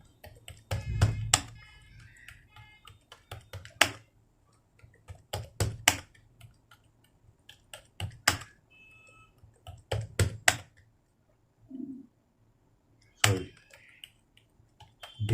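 Keys clack on a computer keyboard during slow Hindi typing practice in Remington GAIL layout, isolated taps and short bursts with pauses between, close and fairly crisp, no talking.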